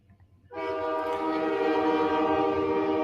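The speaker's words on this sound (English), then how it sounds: "I apologize for that annoying train in the background" A train passes close by outside a home, its horn blaring in a loud sustained chord that starts abruptly over low rumbling, with no talk.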